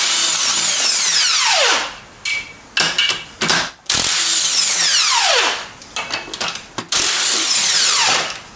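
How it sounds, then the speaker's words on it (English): Impact wrench loosening the 14 mm AC compressor bolts on a Subaru Impreza with an EZ30D engine; loud close bursts of rattling whine that wind down, with short hammering pulses between, repeated three times. "Got my impact, so I'm just going to impact them out."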